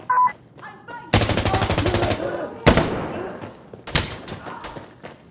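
Automatic rifle fire in the video game Insurgency: Sandstorm rattles in a loud rapid burst, followed by a couple of sharp single shots and a later short burst, with faint game tones beforehand.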